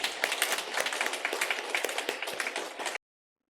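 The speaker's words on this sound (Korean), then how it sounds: "우리 김 집사님 힘내시라고 한번 격려의 박수 하겠습니다" A church congregation claps in encouragement, giving a brisk burst of scattered, moderately close applause that stops abruptly after about three seconds and leaves silence.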